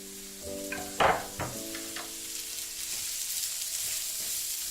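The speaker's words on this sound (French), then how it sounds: "On va les verser avec nos oignons." Diced bell pepper drops into a frying pan already holding onions: a sudden clattering splash near the one-second mark, then a few smaller knocks as it settles over a steady, hissing sizzle, close and without talk.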